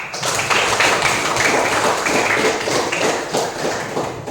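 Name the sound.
applause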